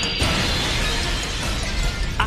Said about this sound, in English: ライフカウンターがゼロになった瞬間にプレイヤーの足元の爆破装置が作動。